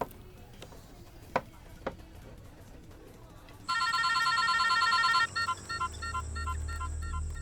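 An electronic telephone ringtone suddenly starts trilling loud and close in a repeating pattern, following a few sharp knocks and over a low rumble, in a Hindi-dubbed South Indian action comedy film scene.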